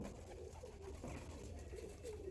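Andhra-line pigeons coo softly, a faint continuous low warbling from several birds with occasional rising calls, quiet and without speech.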